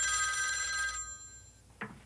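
Old-style telephone bell ringing loudly and continuously for about a second, then fading, followed by a brief click as the receiver is picked up.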